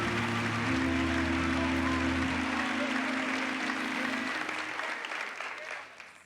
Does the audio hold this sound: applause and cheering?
yes